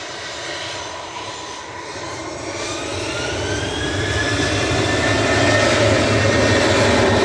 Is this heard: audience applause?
no